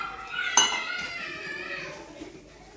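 A spoon knocks once against a bowl of pakora batter with a bright clink that rings on and fades, followed by quiet stirring at close range.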